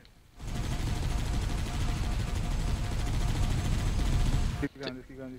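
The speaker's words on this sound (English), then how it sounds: "Dude, has there always been like bullets coming out of the turret? Because there are thousands of bullets just going everywhere." Warthog turret machine gun firing in Halo: Combat Evolved, a dense, loud, unbroken stream of rapid gunfire lasting several seconds, cutting off abruptly near the end before a brief tail of other game sounds.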